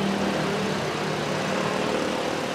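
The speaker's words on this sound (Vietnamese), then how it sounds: "nghe máy nổ rất là êm." A 2020 Toyota Vios with a manual gearbox and original engine idles smoothly, a steady, even low hum heard close up with no voices.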